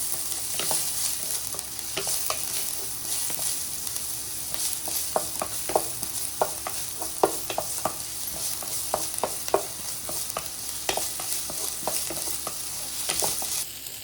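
Onions sauté in a pan until golden brown, a steady low sizzle under frequent scraping stirs of a spoon against the pan, continuing evenly throughout.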